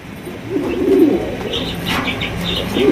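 Pigeons coo in low, rolling murmurs close by, repeating in soft bursts, with a few higher chirps mixed in.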